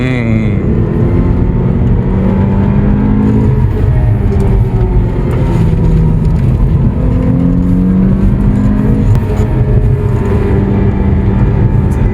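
An Alfa Romeo's engine hums and revs steadily from inside the cabin while driving, with shifting engine tones and a constant loud rumble.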